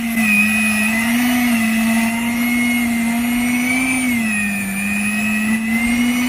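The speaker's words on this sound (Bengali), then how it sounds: "তো এবার আমি আইসক্রিমটাকে ইলেকট্রিক বিটার দিয়ে বিট করে নেব।" An electric beater whirs steadily and loudly while whipping mango malai ice cream made from three ingredients, a continuous motor drone with slight wavering pitch throughout.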